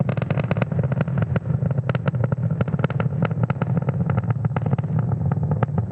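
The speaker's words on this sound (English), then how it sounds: "watching the 60th launch of 2022 Falcon 9 carrying our Starlink payload out into space" A SpaceX Falcon 9 carrying Starlink satellites, in 2022 flight, roars steadily through ascent near max Q, a loud continuous rumble with rapid crackling pulses throughout and no voices.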